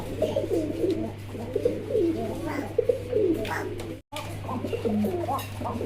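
Fancy racer pigeons, a male and a female pair, coo repeatedly in soft throaty bursts close by, over a steady low hum.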